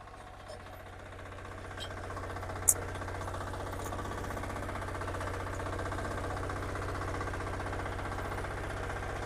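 A farm machine with a turning brake runs its engine steadily, giving a low, even rumble with a rapid, knocking pulse that grows slightly louder after the start. There is one brief sharp tick, and no talking.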